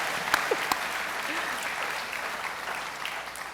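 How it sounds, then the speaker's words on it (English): Audience at a live evening event with an Atlanta Falcons quarterback applauds, a steady crowd clapping wash of moderate loudness with a couple of sharp nearby claps and faint voices mixed in. "So y'all give her a round of applause."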